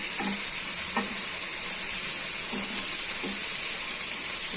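Red fish sizzles steadily in hot oil over a high flame, a dense continuous frying hiss broken by a few soft scrapes of stirring, close and alone without voices.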